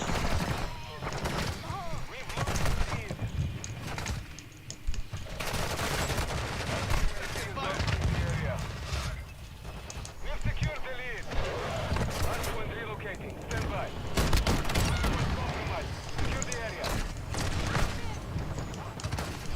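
Warzone 2 video game gunfire, rapid bursts of shots and repeated volleys running throughout, loud and dense, with a person talking over the action.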